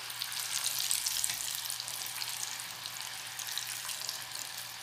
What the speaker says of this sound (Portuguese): continua fritando com calor.